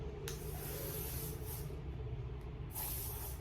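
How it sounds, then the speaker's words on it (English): Hairspray is sprayed onto freshly styled, curled hair in a quiet room, a soft airy hiss with a few brief louder bursts, close and gentle, with no talking. "I'll apply a little bit of hairspray"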